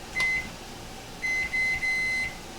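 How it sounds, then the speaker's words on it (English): A kitchen timer, set while brewing a Scottish Export 80 homebrew, lets out a short electronic beep, then after a pause a run of three quick beeps, all clear over a steady room hum. "I'm going to start my timer."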